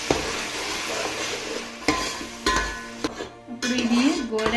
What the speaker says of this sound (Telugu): ఇప్పుడు ఇది గోల్డెన్ కలర్లోకి వచ్చేంత వరకు మనం ఉల్లిపాయ పేస్ట్ని బాగా ఫ్రై చేసుకోవాలి.